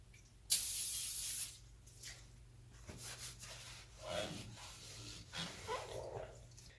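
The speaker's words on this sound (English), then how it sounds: "Clean the area off with some brake parts cleaner." A can of brake parts cleaner fires one loud, sharp hiss of spray, about a second long, onto the lower ball joint area of a car suspension, followed by quieter rubbing and handling noises.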